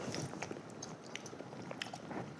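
Soft, close chewing and biting of samgyetang, Korean chicken soup with ginseng and young chicken, wet mouth clicks repeating through a quiet stretch.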